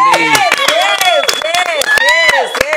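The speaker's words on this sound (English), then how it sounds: "Big round of applause." A television studio crowd claps sharply and rhythmically to celebrate Ladysmith Black Mambazo's fifth Grammy win, with loud close hand claps mixed with whooping, sliding voices and cheers.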